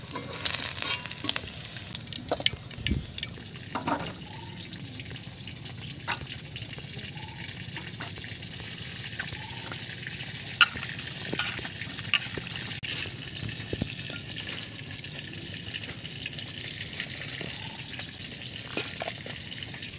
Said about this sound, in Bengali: এই মাছ খুব বেশি ভাজবো না, কেননা এটা অনেক বড় মাছ তো